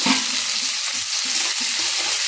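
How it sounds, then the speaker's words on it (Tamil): Chopped tomatoes and onions sautéing in a pan for a village-style brinjal stir-fry, giving a steady close sizzle broken by rhythmic spatula stirring and scraping, with no voices. "இப்போ தக்காளி நல்லா வதங்கி வருதுங்க."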